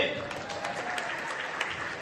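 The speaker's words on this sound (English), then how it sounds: "One more time, big round of applause for Minister Lache." An audience at a community reception applauds a government minister, a short burst of steady clapping heard at moderate distance with voices beneath it.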